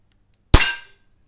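A Daisy Powerline 901 air gun fires one pellet, a single sharp crack with a short metallic ring that fades quickly after a quiet lead-in.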